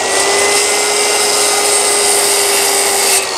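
A skill saw cuts through scrap wood while framing a shed door, a loud, continuous buzzing rasp of blade against timber that stops abruptly near the end.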